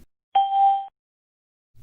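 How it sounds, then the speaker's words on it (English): A phone dialer chimes once when a call connects, a clean electronic ding that holds steady for about half a second before cutting off cleanly, close and clear, with silence around it. "you'll hear a ding on your phone"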